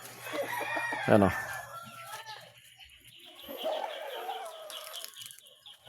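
Farmyard chickens, hens and chicks in Cavite cluck and call throughout, with a brief rooster crow. Someone talks over the birds.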